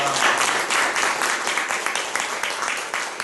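Applause from a church congregation during a Sunday worship service, a dense, steady wash of many hands clapping together that stays even and moderately loud throughout.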